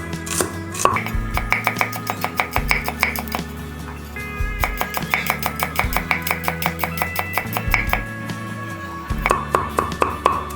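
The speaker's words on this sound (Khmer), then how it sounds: "ឥឡូវយើងហាន់ខ្ទឹមក្រហមយើងហាន់វាឲ្យស្ដើងអញ្ចឹងមក" A knife slices shallots thinly on a cutting board for a sweet fish sauce, giving rapid, steady rhythmic chops in close, crisp bursts with brief pauses between runs.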